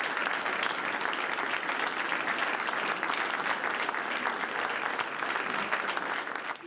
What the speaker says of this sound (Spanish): Los aplausos resonaron en las paredes de un museo inaugurado por su padre.